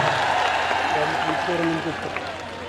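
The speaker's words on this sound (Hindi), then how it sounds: "बजाओ एक बार जोरदार तालियां" Crowd applause at a political rally rattles on throughout while a voice speaks loudly over it, the clapping fading slightly toward the end.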